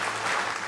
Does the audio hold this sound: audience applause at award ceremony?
yes